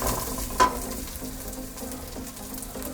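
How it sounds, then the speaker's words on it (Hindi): Ingredients, including whole dried dates, lightly frying in a pan for sheer khurma: a steady, soft, close sizzle with a brief louder crackle near the start and no talking. "अब इसको हम हल्का सा फ्राई करेंगे।"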